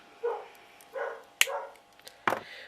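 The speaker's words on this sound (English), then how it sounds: "we've got the builders in work and the dogs are going by me all the time" Several dogs barking near a home where builders are working, a handful of separate short barks and yips spaced across a couple of seconds, moderately close, with no talk.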